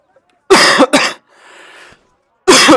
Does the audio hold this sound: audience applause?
no